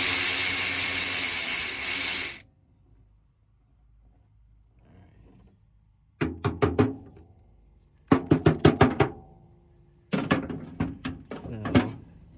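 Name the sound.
flex head ratchet loosening 11/16 steering shaft bolt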